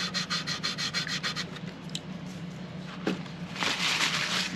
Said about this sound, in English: Wipe it down, get the oil off the frets, make sure it gets into all areas.